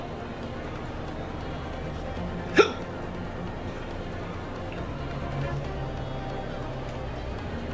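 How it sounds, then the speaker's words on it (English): A single sharp hiccup rings out once, loud and abrupt, over a steady background of game music and ambience during play of the adventure game TGAAC. "Sorry, I got a bit of a case of the hiccups."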